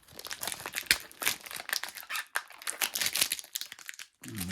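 Backing film is peeled off a cured epoxy repair on a ski top sheet, a close, crinkly crackling and tearing that comes in uneven bursts and ends with a brief thump.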